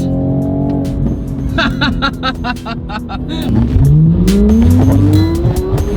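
A 2020 Toyota Supra's engine revs and climbs steadily, with rapid crackling exhaust pops bursting through the drone, loud and close throughout.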